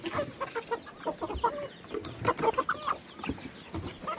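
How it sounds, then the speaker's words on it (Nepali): Several farm chickens cluck in irregular bursts close by as they gather for feed, the fowl calls overlapping in busy, uneven clusters without speech. "कुखुरा हेर्नुहोस्, ल चारो दिनु कुखुरा अलिक धेरै।"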